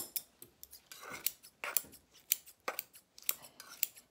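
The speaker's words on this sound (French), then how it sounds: "je cisèle au ciseau les konjac." Scissors snip through konjac noodles in a quick, uneven series of crisp close cuts, with short quiet pauses between snips.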